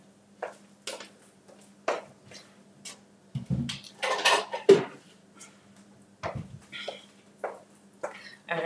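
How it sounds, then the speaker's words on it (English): A spatula scrapes applesauce into a plastic measuring cup in a home kitchen, giving scattered clinks, taps and scraping strokes that come close and fairly quiet, with brief voice sounds mixed in. "we'll use our spatula to scrape it in here"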